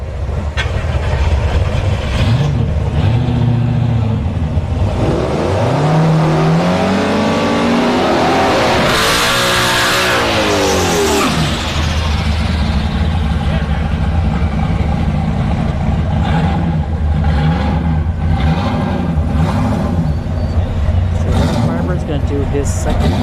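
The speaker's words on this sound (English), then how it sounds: "Do his second burnout." Fourth- and second-generation Pontiac Firebird drag cars rev hard during a burnout at a no-prep drag strip, engines rising and falling loudly with a sweeping pass through the middle, while an announcer talks over a public-address system.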